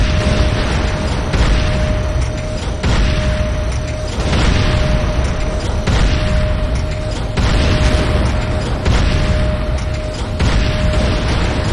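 A GDI weapons factory blows up in Command & Conquer Renegade, a loud, sustained barrage of booming explosions rolling in repeated heavy bursts with no pause, dense rumbling debris filling the whole stretch.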